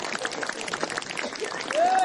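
Audience applause at an outdoor Snow Peak festival gathering at the company headquarters, a brief wash of clapping mixed with crowd murmur and voices, with a thin tone rising near the end.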